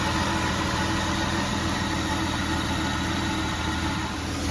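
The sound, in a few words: Aston Martin DB9 V12 engine idling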